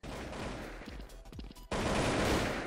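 AK-47 fire in the mobile shooter Blood Strike, a rapid burst of close shots, a brief pause, then a louder sustained automatic burst.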